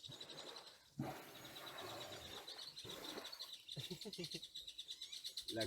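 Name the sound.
bird calling in Mole National Park, Ghana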